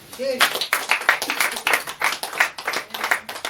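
Church congregation clapping in a steady, regular rhythm while acclaiming the Lord, with voices shouting and singing over the claps; loud and close, with sharp evenly spaced hand claps throughout.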